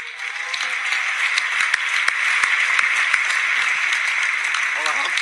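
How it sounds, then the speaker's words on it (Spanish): An audience at the Premios Feroz 2020 award ceremony applauds Carlos Areces, a continuous, even wash of many hands clapping in a large hall, with a few sharper claps standing out near the middle. "aplauso para Carlos Areces"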